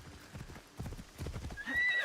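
Horse in the Assassin's Creed Shadows video game, with a steady run of clip-clopping hooves followed by a high whinny near the end, loud and close, with no talk.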